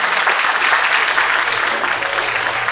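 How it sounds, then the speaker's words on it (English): An audience at a church gathering claps its hands in steady, dense applause that stays loud and close for a few seconds, with no speech over it. "Clap your hands for her."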